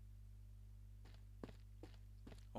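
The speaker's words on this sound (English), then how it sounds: "Only the sounds of footsteps." About five soft, evenly paced footsteps in the Nintendo DS game Ace Attorney Investigations 2, quiet and close over a steady low background hum with no music.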